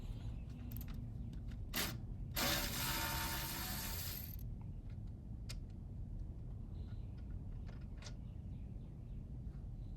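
Bolts being removed from a Gravely Z-Stance 32-inch zero-turn mower, heard as a roughly two-second burst of bright mechanical whirring and ratcheting, with a few scattered clicks before and after over a steady low background hum.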